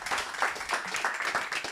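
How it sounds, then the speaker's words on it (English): An audience at a sales networking evening applauds a presenter, producing fairly quiet, continuous clapping that swells and fades slightly across the short stretch. "I think we can already applaud him for this nice presentation."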